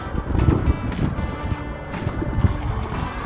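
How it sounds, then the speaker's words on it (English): Gusty wind on the Terwillegar Trail in Edmonton, Alberta buffets and rumbles loudly in low, uneven bursts, swelling and easing over a few seconds. "Oh, hear that wind again."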